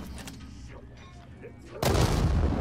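A grenade goes off in Dying Light 2, the sudden loud blast cutting through a quieter stretch of game noise and faint voices. The blast then leaves a sustained, heavy rumble.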